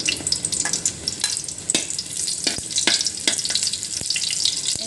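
Onions sautéing in cooking oil for pancit bihon, a close steady sizzle and crackle with repeated sharp scrapes and taps of a spatula stirring in the pan.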